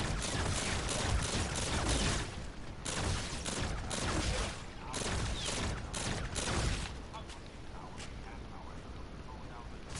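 Spearhead gun in Infinite Warfare firing in fast sustained bursts, loud and dense rattling gunfire with brief pauses between volleys, a voice speaking over it.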